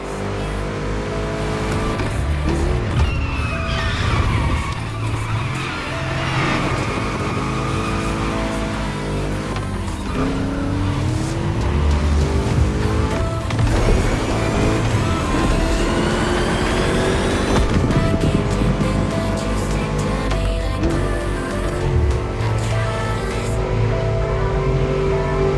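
Japanese cars racing and drifting in The Crew Motorfest, engines revving loudly and continuously with rising and falling pitch, tire squeals and passing whooshes layered over steady road roar, with no break.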